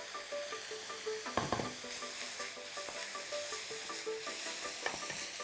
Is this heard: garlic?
yes